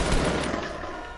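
Gunfire crackles in the video game Fortnite, a dense burst of loud shots at the start that fades into a tail of reverberation. No voices are heard.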